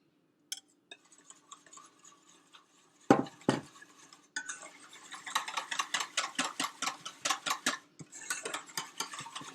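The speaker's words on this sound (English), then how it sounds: "you're going to be stirring constantly" A custard of eggs and warm cream for crème brûlée being stirred in a pot, with a utensil scraping and clinking in quick, steady strokes that fill the second half of the clip, close and moderately loud.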